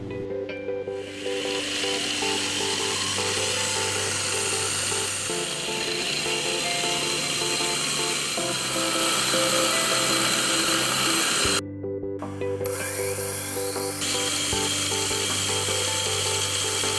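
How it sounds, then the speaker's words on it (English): Steady machine-shop drilling through clock plates for pillar holes, a continuous loud whirring motor drone with a brief pause near the end, no voices. "the three pillar holes can be drilled out in preparation for accepting screws"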